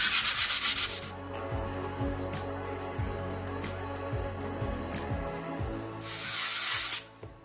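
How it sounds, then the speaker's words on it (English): Wall filler being sanded by hand with 120 grit sandpaper, close and steady: a harsh, hissy rubbing in long strokes, with a louder scrubbing burst at the start and another near the end. "This is on 120 sandpaper, so I'm just going to give this a really good sand."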